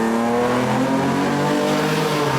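A sports car engine revs with a deep, throaty rumble, holding steady and loud up close throughout.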